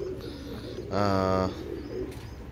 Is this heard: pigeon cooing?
yes